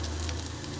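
Spices sizzle and fry steadily in a hot pan, a constant close hiss with no talk over it.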